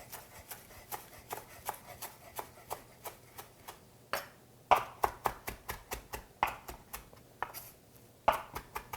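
Fresh herbs rough-chopped with a knife on a cutting board for Long Island fish chowder, a steady run of close, crisp chops in quick rhythmic strokes, alone without talk.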